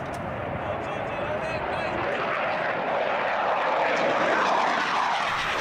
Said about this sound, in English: Now the airplanes you see taking off right now are heading out to the area